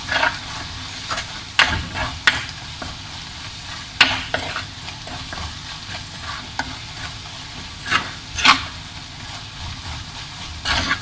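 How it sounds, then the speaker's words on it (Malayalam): Stirring spice masala for duck mappas in a hot pan, with repeated scraping knocks of a spoon over a low, steady sizzle, close and moderately loud, no talking. "ഇനി ആ പച്ചക്കുത്ത് മാറണ വരെ ഒന്ന് വഴറ്റിയെടുക്കാം"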